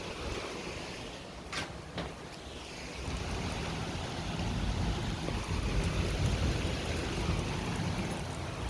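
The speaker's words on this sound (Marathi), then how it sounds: "पावसाची सुरुवात झाली आहे" Rain falls steadily, heard from a gallery as a broad, even wash of drops that thickens and grows louder after a few seconds, with a couple of brief knocks early on.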